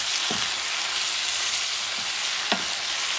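Hot peppers sizzle in a pan of chorizo, ground beef and paprika-seasoned rice, giving a steady close frying hiss with two brief scrapes as the mixture is stirred.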